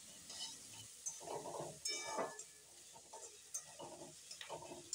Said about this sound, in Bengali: সব কিছু একসঙ্গে ভালো করে ভেজে নেব